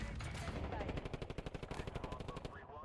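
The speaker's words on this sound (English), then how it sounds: "Precision airstrike ready for tasking. Target area marked. Cleared hot." Precision airstrike hitting a marked target area in a military shooter video game, a dense rapid burst of heavy automatic fire and impacts lasting a couple of seconds before cutting off, loud and close.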